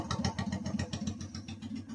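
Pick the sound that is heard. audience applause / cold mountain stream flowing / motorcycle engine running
motorcycle engine running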